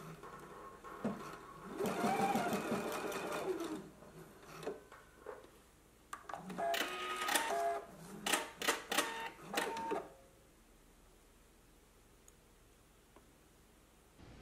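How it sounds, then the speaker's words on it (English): A home sewing machine stitches tacks into bodice pieces of a McCall's M8322 dress: two short bursts of rapid mechanical whirring and clatter, close and moderately loud, separated by a brief pause and followed by quiet. "So let's go ahead and tack the bodice pieces together right here at our large circle."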